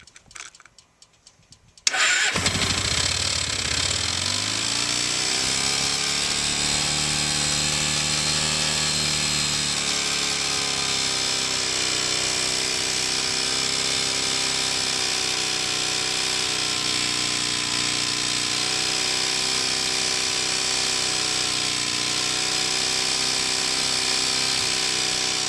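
A motorcycle engine cranks briefly, catches and starts, then holds a steady high rev near 5,000 RPM as a loud, continuous drone with slight pitch wavers, running alone throughout.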